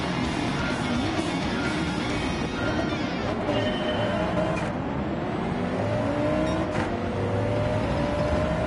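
The Volkswagen GTI Vision Gran Turismo concept car in Gran Turismo 7 holds a loud, sustained engine drone whose pitch climbs and shifts steadily through the gears over several seconds, with no speech.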